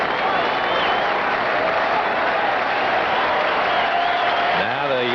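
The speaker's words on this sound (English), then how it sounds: "Now the Yankee fans start their hand clapping for the strikeout" Baseball crowd of Yankee fans at a 1981 playoff game clapping in rhythm for a strikeout, a steady dense roar of hands and voices filling the whole stretch, with a brief whistle-like tone near the end.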